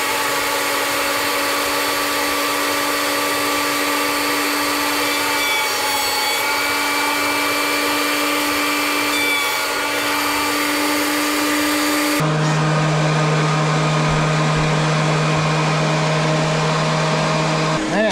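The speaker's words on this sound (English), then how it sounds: "let's mill up some cedar" A chainsaw mill cuts Atlantic White Cedar into lumber, the engine droning loud and steady under heavy load with a constant sawing whine, then shifting pitch as the cut changes near the end.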